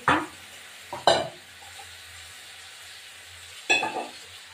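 Ground spices for a bata fish curry with green chilies sizzle in a hot pan, stirred in a few sharp bursts of frying and scraping separated by quieter pauses, close and fairly soft.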